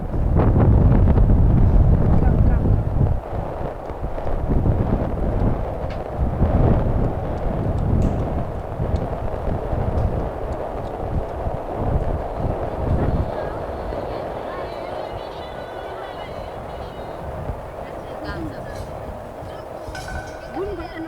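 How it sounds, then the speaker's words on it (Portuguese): Strong, constant wind buffets the microphone outdoors in Ethiopia, a loud rumbling roar that is heaviest at first and then eases into a steady gusting rush. "Aqui tem vento constante, muito forte."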